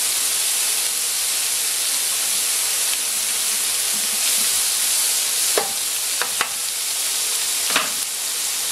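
Chanterelle mushrooms fry in nutty browned butter with a steady, dense sizzle and hiss, broken by a few sharp utensil clicks near the end.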